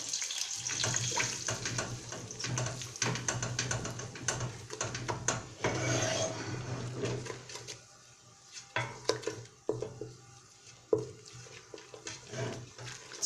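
A kitchen tap runs during washing up, a steady hiss of water with dish clatter for several seconds before it thins into scattered splashes and knocks, fairly faint and without speech.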